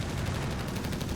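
Rapid gunfire from a half-track's mounted gun in the real-time strategy game Company of Heroes 3, a dense, steady burst of shots that fills the whole moment with no talking over it.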